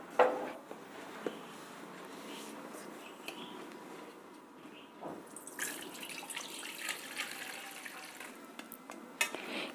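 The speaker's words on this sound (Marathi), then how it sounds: "आपण आता याचं पाणी काढून घेऊ" Soaked soya chunks having their water drained off, heard as a soft trickle that gives way to a stronger, brighter pouring splash partway through, with a few light clinks and no talking.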